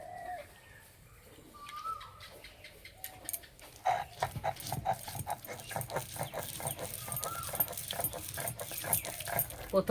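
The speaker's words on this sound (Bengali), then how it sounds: "এবার আমি ডালগুলো বেটে নেব।" Soaked lentils are ground by hand on a stone grinding slab for rosh bora. Birds call faintly at first, then repeated rhythmic scraping strokes of stone on stone follow close and steady.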